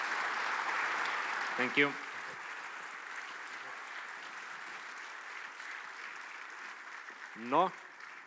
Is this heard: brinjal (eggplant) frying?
no